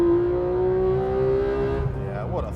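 A Porsche 911 GT3 engine with PDK gearbox sings at high revs in a steady, loud tone, rising slightly before a quick shift near the end, heard close from inside the car.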